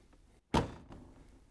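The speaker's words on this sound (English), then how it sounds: "Once you have it on, we can close the washer door" The front door of a GE washing machine swings shut with a single short, dull thunk, heard up close and fairly quiet in an otherwise still room.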